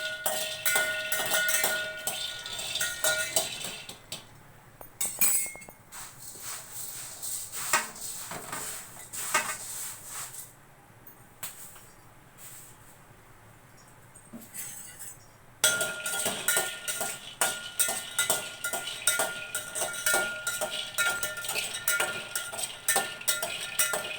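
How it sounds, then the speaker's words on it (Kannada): Peanuts being dry-roasted in a pan with a metal utensil, giving dense, irregular clinking and scraping in steady bursts, with a quieter stretch midway before the stirring picks up again close and loud. "ಶೇಂಗಾ ಹುರ್ಕೊಳ್ಳೋಣ ಸ್ವಲ್ಪ."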